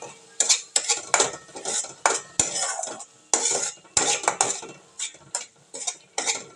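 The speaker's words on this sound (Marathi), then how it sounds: "आणि मसाला चांगला भाजून घेऊया आपण" A spoon scrapes and clatters against a pan in uneven bursts while ground spices, turmeric, cumin powder, garam masala and salt with onion and tomato, are roasted in oil, with a faint sizzle between the strokes.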